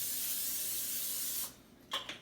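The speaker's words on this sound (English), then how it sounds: "First, you want to spray your pan with some Pam," Cooking spray hisses onto a pan for about a second and a half in a steady loud burst, followed by a short quieter spritz.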